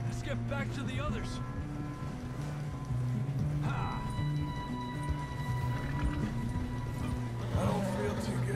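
Horse hooves clip-clop in Red Dead Redemption 2 on a snowy, cold night, a rhythmic trotting beat under steady background music while characters talk over it.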